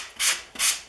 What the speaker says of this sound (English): the only thing I'm going to do is lightly use the sanding sponge on it